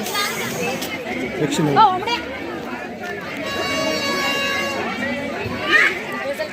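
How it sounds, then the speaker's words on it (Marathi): Dense crowd babble fills a village fair (yatra) during a Harinaam Saptah, many overlapping voices and distant chatter at steady level, with a few louder nearby voices and a brief higher call rising above the hubbub. "आज ह्या वर्षी लई भयानक गर्दी आहे"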